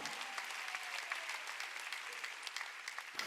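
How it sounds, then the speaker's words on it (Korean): Church congregation applauding during a Wednesday worship service, a steady wash of many hands clapping at moderate distance that holds evenly throughout and cuts off abruptly at the end. "박수."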